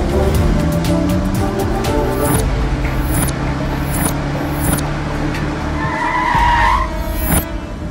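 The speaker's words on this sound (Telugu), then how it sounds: "ఏంద్రా సడన్ బ్రేక్ వేసిండు?" A car brakes suddenly and its tyres skid, a long loud screech with engine rumble underneath, then a higher squeal rising near the end before fading.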